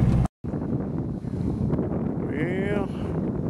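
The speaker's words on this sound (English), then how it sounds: "it is cold, and it's nasty, and it's windy" Strong, cold wind buffets the microphone outdoors in a steady, rough roar, with a brief dropout near the start and faint voices underneath.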